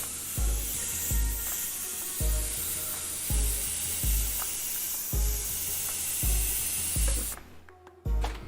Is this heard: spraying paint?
yes